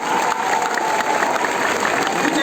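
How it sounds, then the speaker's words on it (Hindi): Loud, dense applause from an audience at a business testimonial event, a continuous wash of many hands clapping close by for a couple of seconds, with no speech. "मैं चाहता हूं इस इंडस्ट्री के लिए जोरदार तालियां हो।"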